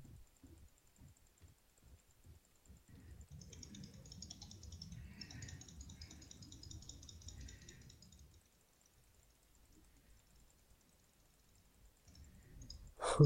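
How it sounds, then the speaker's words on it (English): Rapid mouse clicks tapping away in quick bursts, close and fairly quiet, with a soft hum underneath and a louder click at the very end. "the only thing I hear is just my mouse clicks"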